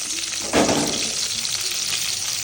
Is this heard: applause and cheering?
no